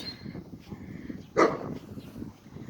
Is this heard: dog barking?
yes